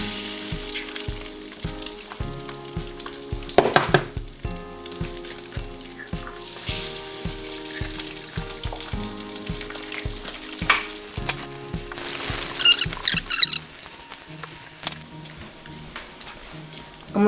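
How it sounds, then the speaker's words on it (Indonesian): Eggs cracked into hot oil for rice vermicelli soup fry with a loud, steady sizzle, punctuated by occasional clatter and a brief bright crackling burst near the end, with no voices. "ini minyaknya sudah panas. Kita pecahkan telur."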